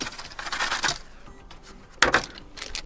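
Light tapping on a Keychron K2 QMK mechanical keyboard, a few quick bursts of soft clicky keystrokes with a short pause between, close and fairly quiet.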